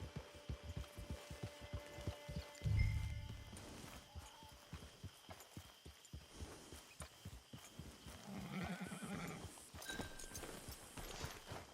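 A horse in Red Dead Redemption 2 trots steadily, hooves clip-clopping in an even, continuous rhythm, close by, with faint ambient sounds around it and no talking.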